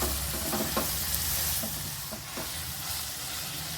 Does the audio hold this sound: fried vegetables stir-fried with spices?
yes